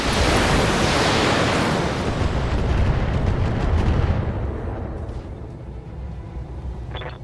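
Heavy mech weapons fire in the Battletech game, a dense, loud roaring barrage of blasts that rolls on continuously and slowly fades toward the end, with no talking.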